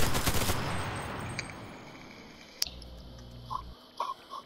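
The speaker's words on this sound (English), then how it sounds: "someone's shooting at you from south" Gunfire in the dark multiplayer game CRSED: a dense burst of rapid shots at the start, then a sharper single crack midway and a few scattered distant pops toward the end.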